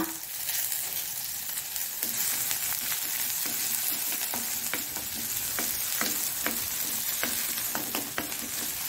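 Chopped onion frying in coconut oil and ghee for an egg masala makes a steady close sizzle, broken by regular sharp scrapes and taps of a spoon stirring the pan, with no speech.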